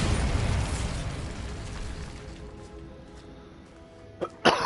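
A Bombarda spell in Hogwarts Legacy bursts with a loud explosive boom. A rumbling tail fades over several seconds, and two short sharp pops follow near the end.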